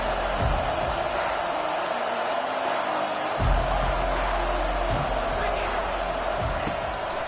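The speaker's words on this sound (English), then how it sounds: "This crowd bringing an ear-splitting welcome to their visitors." Stadium crowd in the NCAA 25 college football video game roars steadily and loudly throughout, a dense, continuous wash of cheering with no break.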